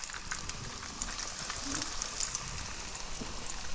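Porgies frying in hot oil at about 337 degrees, a steady dense sizzle and crackle running unbroken throughout at moderate loudness, with no voices.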